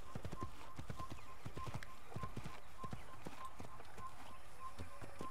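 Horse hooves clip-clop in a quick, uneven rhythm across the whole stretch in the Assassin's Creed video game, fairly faint, with a player's voice speaking over them.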